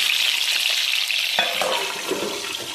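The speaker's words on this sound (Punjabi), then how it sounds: "ਇਹਨੂੰ ਆਪਾਂ ਤੇਲ ਦੇ ਵਿੱਚ ਪਹਿਲਾਂ ਭੁੰਨਣਾ ਹੈ" Indian gooseberries (amla) frying in hot oil, a loud, dense sizzle that crackles steadily and eases slightly near the end, with no voices.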